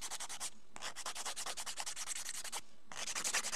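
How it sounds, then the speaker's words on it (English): An acrylic nail being filed across its top with the smooth side of a nail file. Quick, rhythmic rasping strokes come close up, broken by two short pauses. "when I'm filing, I'm moving like this across the nail"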